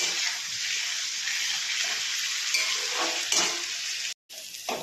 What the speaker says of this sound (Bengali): ওলটা দেখো ভাজা হয়ে গেছে